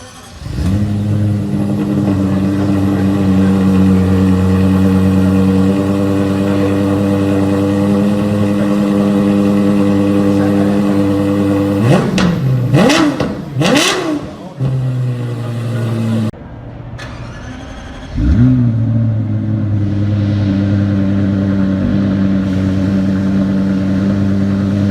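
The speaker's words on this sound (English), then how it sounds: "it produces a unique exhaust note that is characteristic of a high-revving V10 engine" A Lexus LFA's 1LR-GUE V10 idles loud and close, then snaps through several sharp high revs before settling back to a steady idle, with one more quick blip near the end.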